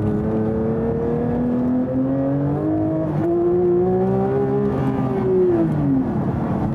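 A race car on a timed lap around a track gives a loud, close engine drone that climbs and falls in pitch as it accelerates and shifts, with no talking over it.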